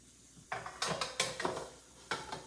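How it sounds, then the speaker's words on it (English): Balls of bati dough are set one by one into a greased metal baking pan, giving quiet, close clinks and soft knocks in an uneven rhythm of several placements with short pauses. "I'll grease the pan properly, put the Bati"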